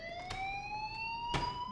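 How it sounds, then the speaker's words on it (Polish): An electronic alarm in Life is Strange wails from ceiling speakers, a rising siren-like tone sweeping steadily upward with a couple of sharp clicks and thumps around it. "Przecież to dźwięk alarmu leci z sufitu,"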